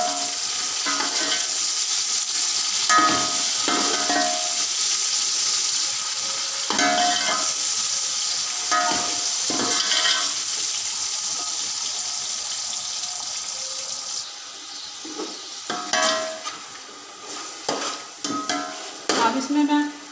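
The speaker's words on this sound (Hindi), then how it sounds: "लहसुन अदरक का पेस्ट मैंने ऐड किया है, इसको 2 मिनट तक भून के फिर इसमें दूसरी चीज़ें ऐड करनी है। अब टमाटर ऐड करने लगी हूँ।" Tomatoes go into garlic ginger paste frying in a pot, giving a continuous hissing sizzle. Bursts of louder crackle and stirring clatter come through, growing choppier toward the end.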